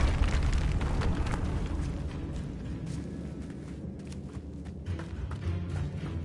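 A Confringo blasting spell explodes in a Harry Potter video game, hitting with a loud, rumbling boom at the start that slowly fades into a crackling, debris-filled tail.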